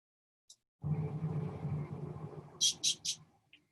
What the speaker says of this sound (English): Here is Petey doing his little pika chirp